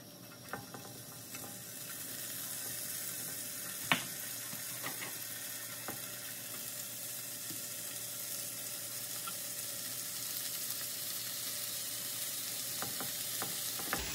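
Roast pork sizzles steadily on a high-heat griddle for a hot sandwich, a close, constant frying hiss. Occasional faint clicks and scrapes of a spatula break through it.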